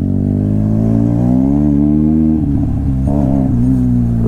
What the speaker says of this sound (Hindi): एक फायर मार रही है बैनली यार, खतरनाक पटाखे दे रही है यार बहुत ज्यादा